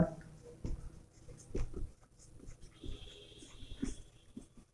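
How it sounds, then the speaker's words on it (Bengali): Chalk or marker scratching across a board as a sentence is written, a run of soft scraping strokes with short pauses between them, close and fairly quiet, with no talking. "পরের বাক্য লিখি"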